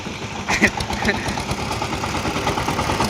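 A tractor's engine runs steadily in a Konkan rice field during sowing, a mid-pitched drone with a light chugging throb, while people talk over it nearby.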